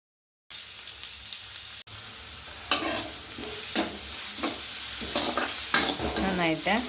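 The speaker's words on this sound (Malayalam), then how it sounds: "സവാള അരിഞ്ഞത് ചേർക്കാം." Chopped onions sizzle as they fry in hot coconut oil, with a steady close frying hiss broken by repeated scraping stirs of a spoon through the pan; no one speaks.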